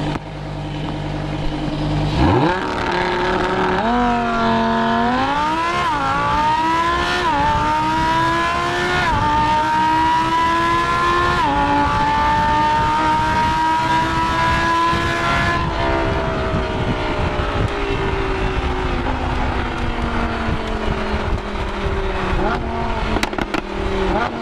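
A Lamborghini Huracan LP610-4 launches hard under launch control and pulls up through the gears, its loud engine climbing in pitch with sharp drops at each shift, then a long sustained high-speed drone.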